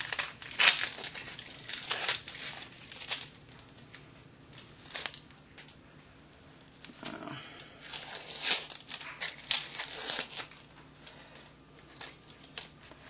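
Papery crinkling and crackling as dry outer skin is peeled off a red onion after the ends are sliced off, a series of close, light rustles and tearing crackles in irregular bursts, with no talk.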